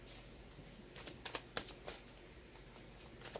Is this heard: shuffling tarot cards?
yes